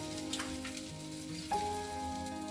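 Mustard seeds and urad dal hit hot oil in a kadai, a steady soft crackling sizzle with a few small pops.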